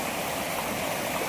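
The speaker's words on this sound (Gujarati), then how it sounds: "જો વેકરામાં પાણી જાય છે" Water rushes steadily through a stream channel swollen by heavy overnight rain, a loud, constant close-up roar without pauses.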